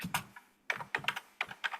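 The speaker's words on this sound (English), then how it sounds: "Whoever typing, if they could mute themselves." Computer keyboard typing over an open microphone during an online board meeting: three quick bursts of rapid key clicks, close and fairly quiet, separated by brief pauses.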